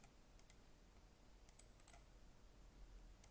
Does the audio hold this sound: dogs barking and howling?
no